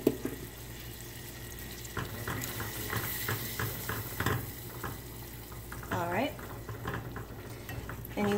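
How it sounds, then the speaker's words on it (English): Coconut flour batter whisked in a bowl, a steady run of quick, regular tapping strokes close by over a low background hum, with a brief swirl of movement near the end. "you want to continue whisking until everything is mixed and smooth"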